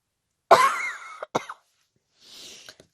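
A person coughing painfully, one harsh rasping cough followed by a couple of short hacks and a raspy breath, close and alone in a quiet room.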